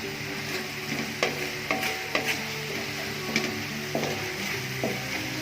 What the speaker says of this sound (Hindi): प्याज है कटी हुई, थोड़ा सा फ्राई करेंगे